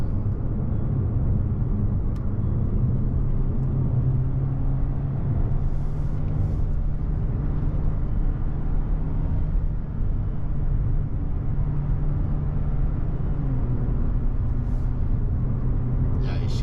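A VW Golf 8 TSi with an 8-speed automatic climbs the Genting hill road in manual mode, its engine a steady low drone with road rumble running continuously throughout.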